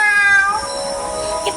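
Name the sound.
cat meowing, in a voice guessing game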